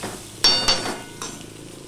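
A metal spatula scrapes and knocks against a frying pan as green chilies and tomato get stirred, giving a few distinct clanks over a soft sizzle with no one talking.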